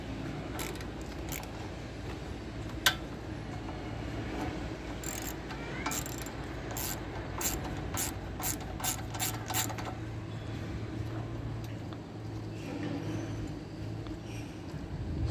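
A ratchet removes a 10 mm earthing bolt from vehicle wiring, making runs of quick, quiet, close clicking, with a clear burst of rapid strokes in the middle and quieter handling noise elsewhere.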